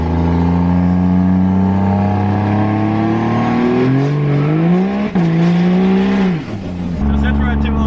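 An 800HP Cummins diesel truck in two-wheel drive accelerates hard with its rear tires spinning, a loud, close engine roar climbing steadily in pitch, then dipping and surging again near the end.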